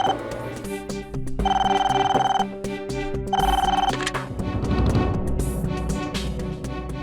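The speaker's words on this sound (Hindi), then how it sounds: "फोन उठाओ" A telephone bell rings in repeated bursts, loud and close, over a busy musical background that continues between the rings.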